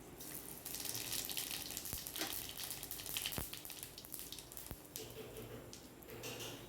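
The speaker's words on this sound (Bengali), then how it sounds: "এবার এর মধ্যে জিরে ফোড়ন দিয়ে দেবো।" Cumin seeds crackle and sizzle in hot oil, in which lentil badi were just fried, with a steady bright fizz and scattered pops close up and no voices.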